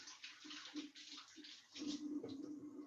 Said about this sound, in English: I'm gonna wash hands